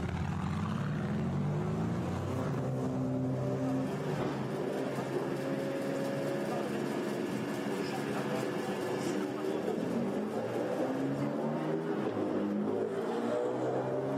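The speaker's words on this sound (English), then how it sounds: "Green lights on, cars go down the pit lane." GT4 race cars roll down the pit lane at Spa during European Series qualifying, a steady engine drone with some revving throughout while a commentator talks over it.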